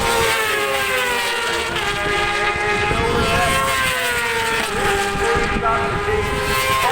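Yamaha racing motorcycles at full speed on the Bishopscourt circuit in County Down, Northern Ireland, a steady loud engine roar with rising and falling pitch as machines pass, a commentator talking over it throughout.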